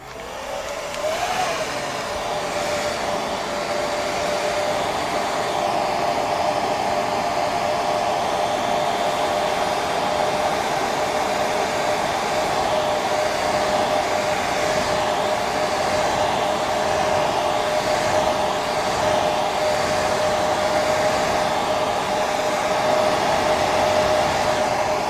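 A hair dryer runs continuously at close range for over twenty seconds, drying a freshly made painting with a loud, steady whirring blow and no pauses.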